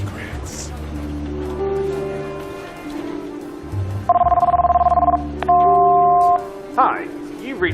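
A telephone rings twice, loud and steady, before a call to a general office building goes to voicemail. The rings sit over a continuous bed of background music.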